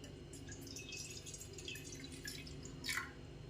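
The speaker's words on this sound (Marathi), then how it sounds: "जे आलेलं पाणी आहे ते मी एका भांड्यामध्ये काढून घेते" A soft, steady trickle of water poured off soaked semolina into a container, with faint drips and a small splash near the end, quiet and close.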